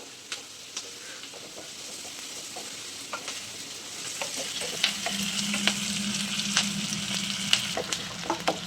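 Onions and curry leaves sizzle steadily in hot oil for a Chettinad liver gravy, with a constant crackling hiss and sharp spatter pops and spoon scrapes that grow busier and louder in the second half.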